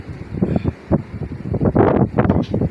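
Gusty wind blows outdoors by the water during early-morning net fishing, buffeting the microphone in uneven low rumbling bursts that rise and fall throughout.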